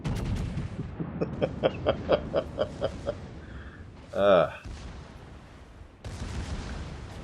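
Secondary battery guns on warships in World of Warships fire a run of about nine evenly spaced, punchy shots, followed by a single louder, swelling blast and then steady rumbling noise.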